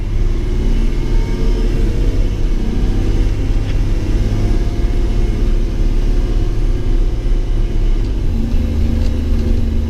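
A six-wheel-drive truck with automatic transmission and differential locks on all three axles drives steadily, its loud, close engine rumble and road noise holding constant throughout with no talk.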